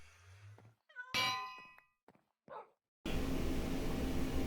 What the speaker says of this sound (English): I decided to steal her bells and just, use them.